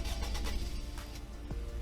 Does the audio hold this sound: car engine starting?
yes